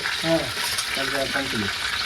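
Steady sizzling of cumin seeds tempering in hot oil fills the clip, with a few low tonal clinks or hums partway through; close and continuous.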